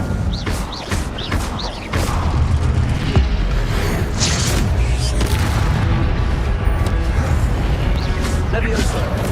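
Whooshing bursts and booming fire blasts from the Incendio spell in Hogwarts Legacy, loud and dense with a sharp onset partway through, layered over game effects.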